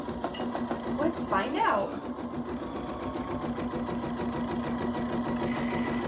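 An embroidery sewing machine stitches an in-the-hoop first and last day of school banner, with a steady, fast mechanical whirring and needle chatter running throughout under a person talking.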